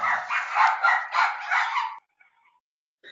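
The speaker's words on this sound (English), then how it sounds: "that was my 2 chihuahuas" Two chihuahuas bark in a quick run of sharp yaps that stops abruptly, fairly close, followed by near silence.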